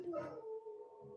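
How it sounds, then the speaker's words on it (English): Dogs howling, with a drawn-out tonal howl and some yipping, fairly faint and distant with no talk over it. "it's dogs barking and howling"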